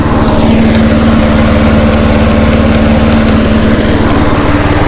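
A push lawn mower engine runs with its carburetor throttle wired, idling below its correct RPM. A loud, steady, close-up motor drone with a low hum continues unbroken, with no talk over it.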